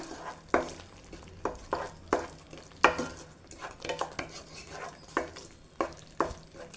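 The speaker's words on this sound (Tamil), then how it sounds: "சேர்த்து எல்லாத்தையும் கலந்து விட்டுடலாம்" Onion thokku with ground spice powder and jaggery stirred in a pan, a soft background sizzle under about ten distinct, evenly spaced scraping strokes of a spoon against the pan, close and alone.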